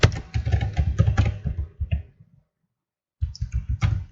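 A password is typed on a computer keyboard at a Linux terminal: a quick run of close, clicky keystrokes, a pause of about a second, then another short burst of keys.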